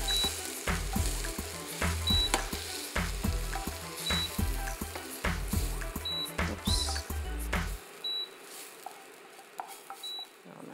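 Bacon lardons and onion sizzle steadily in a pan, with utensil clinks and stirring scrapes throughout and a few bright metallic taps over the frying.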